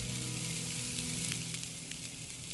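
Soy sauce and sesame oil sizzle with rice on a Blackstone griddle, a faint, steady frying hiss with a low hum underneath, no talking.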